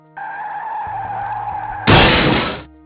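A car skids after its driver dozes off at the wheel, a steady tire squeal running nearly two seconds before a loud, harsh crash of impact and shattering that fades out.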